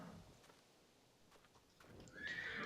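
In a video game, a horse lets out a sharp, high whinny near the end after faint hoof clip-clops, and there is no talking.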